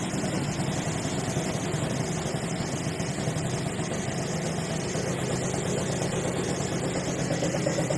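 A small two-stroke moped engine idling close by, a steady buzzing putter that runs evenly throughout without revving.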